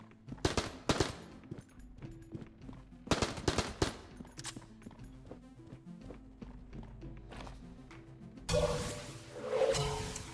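Rapid bursts of video game gunfire from Enter the Gungeon ring out inside the in-game shop: two loud clusters of shots, then scattered lighter pops over a tonal music backdrop, with a denser burst near the end.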